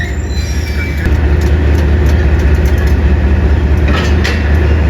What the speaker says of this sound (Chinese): 这款网红火车头是由中国四川资阳机车厂制造，于2002年出口到越南的第一批革新号内燃机车